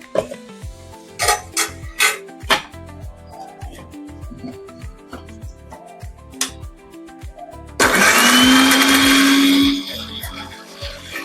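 A mixer grinder whirs loudly for about two seconds as it grinds sweet corn kernels with salt for crispy corn vadas, preceded by scattered clatter and knocks of kitchen utensils.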